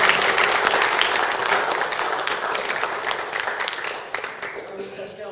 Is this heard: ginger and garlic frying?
no